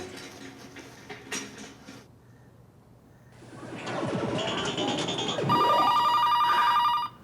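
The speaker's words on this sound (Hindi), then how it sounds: "आ गया उस वाहियात का फोन फिर से।" A telephone rings near the end with a loud, shrill, repeating ring, after a stretch of quieter rustling and soft background sounds.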